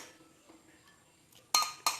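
Cooked pumpkin leaves go into a mixer bowl. Quiet handling noises build to two sharp, bright clinks of metal or glass near the end.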